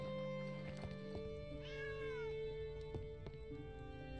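A cat in the tavern-management video game Travellers Rest gives a single clear meow over a steady game soundtrack, with no talking.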